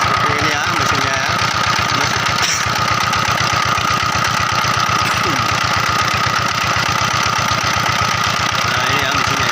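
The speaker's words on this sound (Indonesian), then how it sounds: "Dongfeng S195 diesel engine." A Dongfeng S195 single-cylinder diesel engine drives a small water pump and chugs with a loud, steady, rapid knocking rhythm that holds throughout, close up, with a voice faintly underneath.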